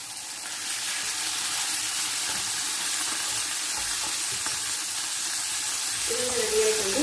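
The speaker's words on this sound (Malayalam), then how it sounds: "ഇതിലേക്ക് നമുക്ക് ആവശ്യത്തിനുള്ള ഓയിൽ ഒഴിച്ചു കൊടുക്കാം. നമുക്ക് ബീഫ് ഇതിലേക്ക് ഇട്ട് കൊടുക്കാം." Beef steak frying in oil in a covered pan gives a steady, even sizzle and hiss that holds for the whole stretch, with a faint extra tone rising near the end.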